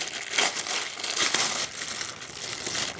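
An item wrapped in tape and layers of plastic is unwrapped by hand, with close, continuous crinkling and crumpling that swells and eases in uneven bursts and has no talking over it.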